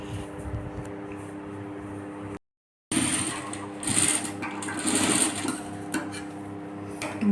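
A sewing machine stitching fabric runs at a steady whirring hum with a bright mechanical rattle, stopping briefly partway through before starting up again and continuing close and even.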